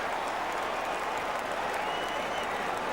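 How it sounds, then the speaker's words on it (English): A large stadium crowd at a 2009 Australian football match between Richmond and Carlton cheers and applauds in a continuous, even roar that stays loud and unbroken from start to finish. "And even the Hawthorn supporters are cheering."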